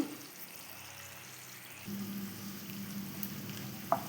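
Leftover dosa batter piped as jalebi fries in hot oil, a faint steady sizzle that grows louder about halfway through as more batter goes in, ending with a brief click, quiet and close, with no talk.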